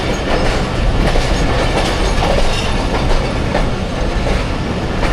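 The 40 Down Jaffar Express rolls in toward platform 3, a loud, close, continuous roar of wheels and carriages with rhythmic clattering over rail joints, no voices.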